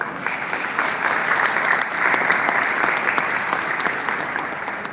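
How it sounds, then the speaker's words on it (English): Round of applause from the audience at a Vets Rock Veterans Day event: dense, steady clapping from a sizable crowd, sustained evenly throughout without speech over it. "So just one more round of applause."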